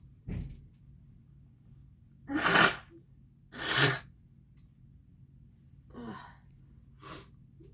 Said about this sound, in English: Let me blow my nose, and maybe it'll stop me from sneezing.